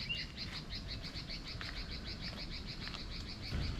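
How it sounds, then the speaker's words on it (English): Birds chirping along a mountain nature trail on Mt. Ikoma, a rapid repeating series of bright tweets in a steady rhythm over soft outdoor background noise, moderately near, with no talk. "Birds are certainly happy today, aren't they?"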